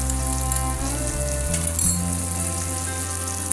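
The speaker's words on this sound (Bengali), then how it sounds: "দিয়ে এই মশলাগুলো আমি ভালো করে একটু কষে নেব।" Spices and salt frying in oil in a pan for a sea crab and taro curry, a steady loud sizzle running throughout with a low hum beneath, no voices.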